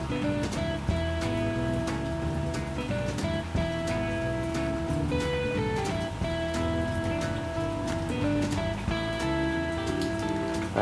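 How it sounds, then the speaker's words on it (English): Steady rain falls outdoors, a dense continuous patter with sharp drips on nearby surfaces, mixed with a loud tonal engine-like drone throughout. "It's raining."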